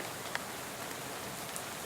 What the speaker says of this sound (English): How about this rain?